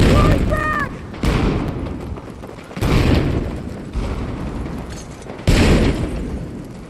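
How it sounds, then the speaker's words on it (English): Frag grenade and other blasts in a video game firefight, several loud booms at irregular intervals over continuous gunfire and battle noise. "Throwing frag!"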